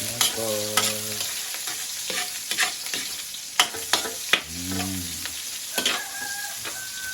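Sliced garlic and onion fry in a pan with a continuous close sizzle, punctuated by repeated clatters and scrapes as the pan is stirred.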